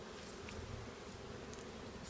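Honeybees buzzing at a hive entrance, a steady low droning hum of many wings close by, with faint higher whines of individual bees passing near.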